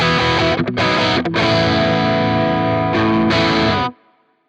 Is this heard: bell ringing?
no